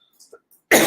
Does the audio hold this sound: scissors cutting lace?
no